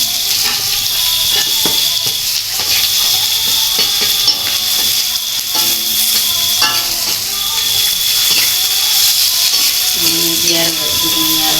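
Chopped spices sautéing in a hot pan, a loud continuous sizzle with occasional stirring scrapes and clinks of a utensil against the pan throughout.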